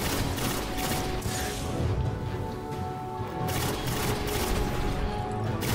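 The Bad Juju weapon firing in Destiny: rapid, continuous gunfire with crackling bursts and mechanical clatter, dense and steady across the whole stretch, with no voices.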